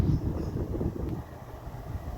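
A fairly large banana-type electric fan runs up close with a steady low rushing hum of moving air and no talk.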